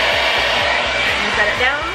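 An InStyler 7X smart hair dryer blows steadily at close range, a loud continuous airy roar over a low motor hum with a faint rhythmic pulsing, heard alone without speech.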